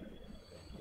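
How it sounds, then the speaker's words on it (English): Trains in the Transport Fever 2 game roll past with a steady rumble and a thin, high wheel squeal, a short continuous stretch of rail noise with no talk. "And we got proper trains coming in and out of here."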